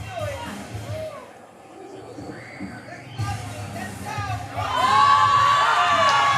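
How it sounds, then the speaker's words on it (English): Spectators at a powerlifting competition cheer and shout, starting as a murmur and swelling into loud whoops near the end, with voices close by. "you hear that? The crowd is going wild"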